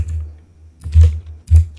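Keys clack on a computer keyboard during coding, close and crisp, in a few uneven taps with two heavier strokes near the end and no talking.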